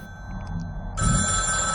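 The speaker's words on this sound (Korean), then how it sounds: "전화 온다. 받아봐." A telephone rings indoors, a bright steady electronic tone that swells louder halfway through over low background rumble.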